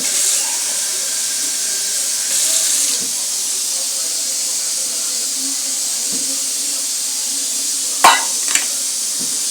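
Water is poured into a hot cooking pot, giving a steady broadband hiss with a brief swell partway through and a couple of sharp knocks near the end.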